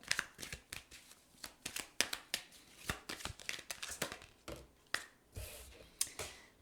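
Tarot cards are shuffled close up in quick, irregular bursts of crisp riffling and slapping, soft and alone.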